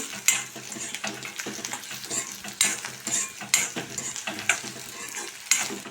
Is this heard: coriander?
yes